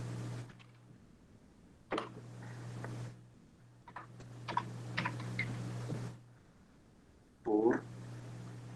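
Bursts of typing on a computer keyboard, quick clicking keystrokes in several short runs, moderately close, with a low hum and a brief stretch of talk near the end.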